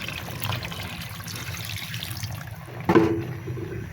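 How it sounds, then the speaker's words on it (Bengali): Broth is poured into a pan of cooking meat, a steady liquid splash and pour over a low background rumble, with a sharper splash near the end as the flow lands. "এখন এখানে আমি ঝোলটা দিয়ে দেবো।"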